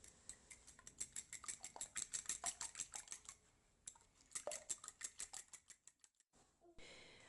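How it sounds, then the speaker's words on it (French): A fork clinks rapidly against a bowl while whisking three eggs with plain unsweetened yogurt, a quick steady rhythm of close, sharp metallic taps that pauses briefly, resumes, then stops. "Je fouette un peu juste avec la fourchette."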